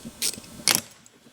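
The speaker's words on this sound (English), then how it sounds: "We'll take the speedometer drive out." Two short metallic clicks and scrapes as the speedometer drive is pulled from the rear housing of an MGB overdrive unit, quiet and close with a brief pause between them.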